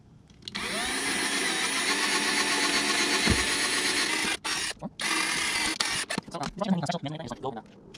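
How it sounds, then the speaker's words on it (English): A power drill whines steadily for several seconds drilling holes in a utility trailer tailgate, then runs in short stuttering bursts as it finishes, close and loud. "Just drill 2 holes."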